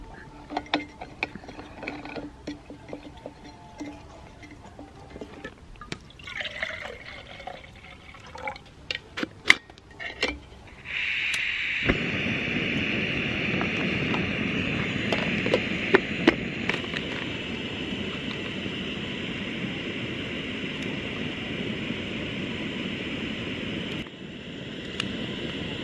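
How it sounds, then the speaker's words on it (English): A Jetboil camping stove heats water inside a van on a cold night, starting with scattered clinks and taps before a steady, loud roaring hiss of burner and boiling water takes over and runs continuously to the end. "This thing, jet boil, if you don't know, it's like boiling water like that."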